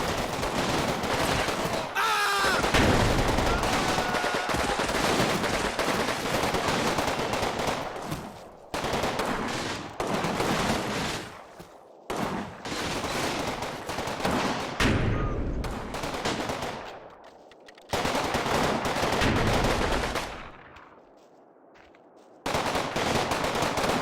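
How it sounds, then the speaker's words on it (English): Rapid machine-gun bursts in the WWII strategy game Final Blitzkrieg, loud and close, with long rattling strings of fire broken by short gaps and brief pauses and no talk. "Wow, listen to those MGs go crazy on it."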